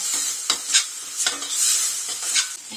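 Tomatoes with salt sizzle softly in a pan while a utensil stirs and scrapes them in several separate strokes, with no talking.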